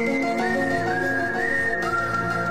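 Someone whistles a slow melody, clear and close, holding long sustained notes that glide between pitches, with no talking.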